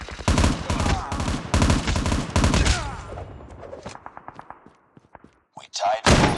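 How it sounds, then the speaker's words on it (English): Sentry gun in a military shooter game firing rapid bursts of automatic gunfire, loud and close, followed by scattered single shots tapering off and a final burst, with game announcer voice lines mixed in. "Sentry gun deployed."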